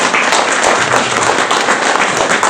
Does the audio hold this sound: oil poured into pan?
no